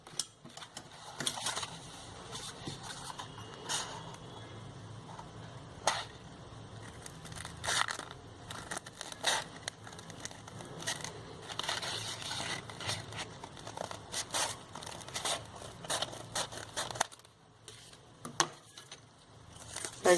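Scissors cut out a strip of paper for a handmade paper rose, with irregular snipping, crinkling and rustling close by, continuing in uneven bursts for about twenty seconds without talk.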